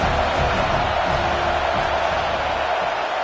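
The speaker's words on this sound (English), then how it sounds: "how nice is it to have the home crowd going absolutely bananas?" A home crowd roars at a Penn State versus Texas A&M college football game, a dense, steady wall of cheering that holds at an even loudness throughout.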